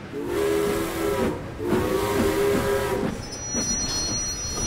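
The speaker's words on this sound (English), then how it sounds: "The three engines tooted and hooted with happiness." Cartoon steam locomotives on the island of Sodor toot their whistles in sustained, loud harmonic blasts, two long hoots then a shorter third, over a steady rushing hiss of steam with no talking.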